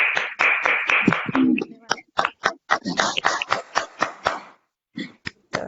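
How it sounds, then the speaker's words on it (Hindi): Scattered claps sound in a small audience after a poem is read, sharp and irregular, thinning into a few isolated claps near the end, with voices murmuring between them. "तो एक बार तालियां तो बनती हैं ऐसी रचना के लिए।"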